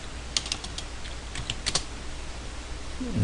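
Steady typing on a computer keyboard, with a quick run of close, crisp key clicks and no voices.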